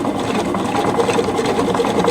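A sewing machine hums and chatters steadily at close range, stitching a bound buttonhole with an even, rapid needle rhythm and no pauses.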